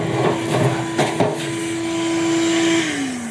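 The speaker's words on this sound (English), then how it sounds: "I'll go ahead and shop vac the inside of the" A shop vac runs inside a Traeger grill during routine cleaning, a loud steady motor whine with a few bumps and knocks early on, then a drop in pitch near the end.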